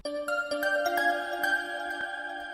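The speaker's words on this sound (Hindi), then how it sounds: "इसका फोन आ रहा है।" A phone ringtone plays for an incoming call, a short melodic electronic tune of stepped tones repeating steadily, fairly quiet with no talk over it.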